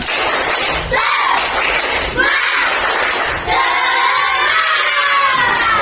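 A classroom of students performs a spirit clap chant, loud group shouting punctuated by a few sharp bursts, the voices rising and swelling together.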